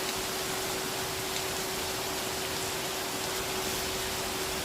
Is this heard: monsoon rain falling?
yes